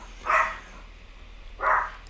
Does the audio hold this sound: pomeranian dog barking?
yes